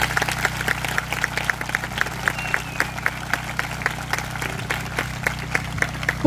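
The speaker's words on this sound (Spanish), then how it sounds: "le demos un aplauso" Applause at a lively public event honoring God, a steady crowd clapping throughout under a constant low hum, with periodic sharp bright accents.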